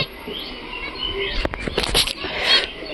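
Java sparrows chirp in a cage, a few short high calls over faint background noise, with a brief cluster of sharper chirps near the middle and another toward the end.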